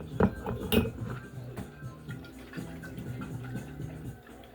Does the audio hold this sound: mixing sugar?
yes